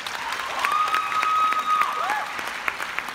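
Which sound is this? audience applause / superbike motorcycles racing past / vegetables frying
audience applause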